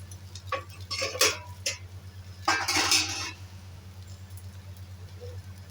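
Carrots frying in a pan while being flipped, giving a steady low hum with clattering utensil-on-pan scrapes and clinks in two short bursts, close and fairly loud.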